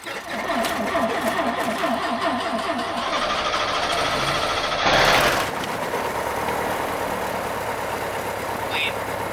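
A single-engine light plane's engine cranking with a rhythmic whirring starter, then catching with a burst and settling into a steady idle drone, with voices in the cockpit.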